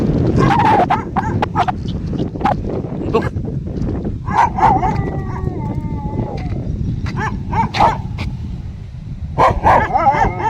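Several dogs bark in short, loud bursts amid busy outdoor noise, with a few higher yips and whines mixed in.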